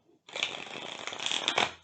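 A small tarot card deck riffles and flutters continuously for over a second, close and crisp, ending with a couple of sharper snaps.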